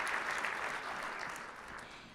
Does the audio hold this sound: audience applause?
yes